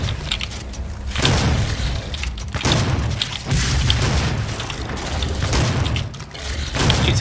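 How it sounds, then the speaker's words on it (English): The super shotgun in the video game Doom 2016 fires a series of loud, heavy booming blasts, roughly one every second or so, over constant rumbling combat noise with mechanical clatter between shots. "let me get my super shotgun out"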